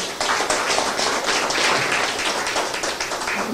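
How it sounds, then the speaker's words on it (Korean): Audience at an academic conference on Northeast Asian affairs and Korea–Japan relations applauding a professor after his talk, a dense, steady wash of many hands clapping throughout, fairly loud, with no talk over it. "큰 박수 부탁드리겠습니다."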